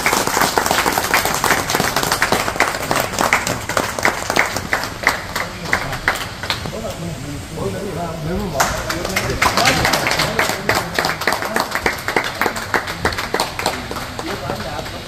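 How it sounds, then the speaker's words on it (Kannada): Applause from an audience at a Dalit Sena branch inauguration in Hosakote, a dense continuous clapping with crowd noise that thins briefly midway, then swells again, with voices mixed in throughout. "ಚಪ್ಪಾಳೆ ಬರಲಿ, ಚಪ್ಪಾಳೆ ಬರಲಿ."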